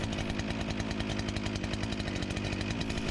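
A NeoTec 895 gas chainsaw, a clone of the Husqvarna 395, runs steadily at high speed, its buzzing two-stroke engine loud and close, with no voices.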